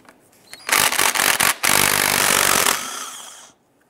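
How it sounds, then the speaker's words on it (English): A power tool driving a 13mm deep socket whirs loudly up close while removing transmission mount bolts on a 2005-2010 Chrysler 300, with a few brief stuttering bursts followed by a sustained two-second run that stops abruptly. "Using a 13mm deep socket, we're going to go ahead and remove the 4 bolts on our mount here."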